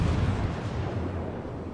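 Heavy naval gun salvo rumbling from a cruiser in the World of Warships video game, a deep, loud boom that fills the short stretch and decays slowly without talk.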